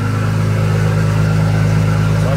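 A Porsche engine revs loudly and steadily close by, a strong continuous drone with a pulsing rhythm, the car sitting on a wet street in the rain.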